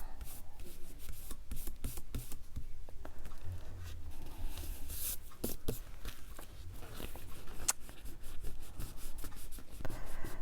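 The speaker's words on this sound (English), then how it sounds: "let's just rub it." Fingers rubbing paper in a prayer journal, with soft scratchy friction strokes and small taps, close up and steady.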